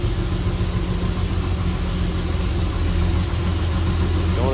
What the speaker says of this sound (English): I guess what you'd expect, that inline six from 1929, if you're used to hearing those or not.